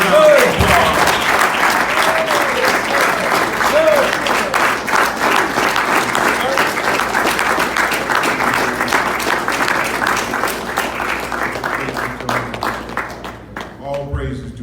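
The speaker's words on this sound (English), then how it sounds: "Bring him up with a round of applause." Loud, sustained crowd applause at a Nation of Islam gathering in Los Angeles as a speaker is brought to the stage, thick continuous clapping that holds for over ten seconds before tapering off.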